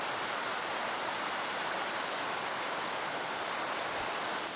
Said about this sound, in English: water starts to trickle down and finally turns into small streams